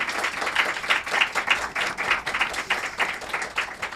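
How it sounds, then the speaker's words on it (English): An audience applauds a panel at a discussion event on reaching a circular economy, with steady, dense clapping that holds for several seconds at moderate volume and rises and falls slightly. "can you give a round of applause for our panel"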